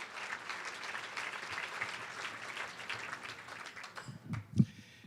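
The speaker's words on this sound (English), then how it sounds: "Big round of applause." A banquet audience at a college baseball first pitch dinner claps for the team, loud continuous applause that thins out after about four seconds into scattered claps and a few isolated louder ones.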